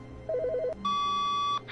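A telephone in The Stanley Parable gives a short warbling electronic ring, followed by a steady higher beep tone, each brief and clear against a quiet hum.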